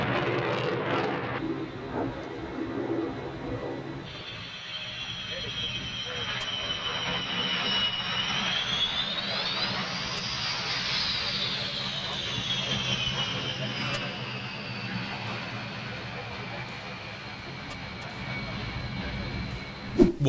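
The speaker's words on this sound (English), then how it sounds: "The Russian Knights Su-27 tried landing without landing gear." A Russian Knights Su-27 jet lands without its landing gear, with a loud, steady jet engine roar and a rising and falling whine sustained throughout, and voices audible underneath.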